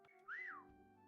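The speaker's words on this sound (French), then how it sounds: "je vais siffler" A single short rising-and-falling whistle sounds in the video game Meccha Chameleon, clear over a steady low background hum, with no talk.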